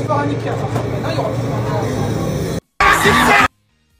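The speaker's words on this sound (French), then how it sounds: "ils sont tous en train de crier" A cinema audience in Marseille yelling and shouting in a loud, dense, continuous roar of many voices that cuts off abruptly, then returns briefly before stopping.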